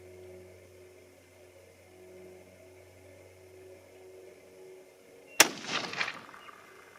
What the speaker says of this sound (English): First shot with the 85 grain Sierra, hollow point boat tail.